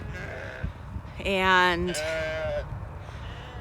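Sheep bleat on a farm pasture, a loud drawn-out cry followed by a second shorter one, with someone talking quietly nearby before and around them.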